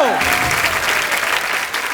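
A studio audience at The Kapil Sharma Show applauds loudly to welcome guests, dense clapping sustained throughout with a voice speaking over it at the start.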